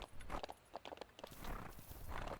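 Horse hooves clip-clopping in the video game The Ranch of Rivershine, a quick run of close, fairly faint hoof knocks in an uneven walking rhythm.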